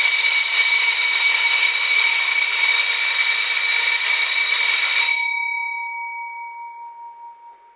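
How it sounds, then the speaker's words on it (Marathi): A loud electric bell, made in an industrial workshop, rings continuously for about five seconds, then stops and its metallic tone fades away. "ऑन आणि ऑफ वरती साधारण 6 सेकंदाची बेल वाजवून दाखवतो"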